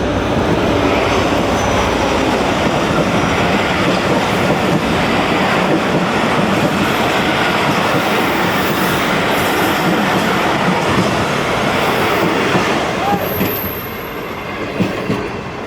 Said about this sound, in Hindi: छोटी सी ट्रेन है ये, ज़्यादा कोचेज़ नहीं होती हैं इस ट्रेन में